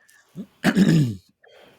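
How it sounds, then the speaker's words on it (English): One person clears their throat in a short, gruff burst during a casual sports podcast conversation, heard close and alone with small breathy sounds around it. "sorry, I had to clear my throat."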